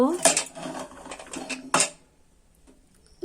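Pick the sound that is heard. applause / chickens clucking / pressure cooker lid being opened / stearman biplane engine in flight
pressure cooker lid being opened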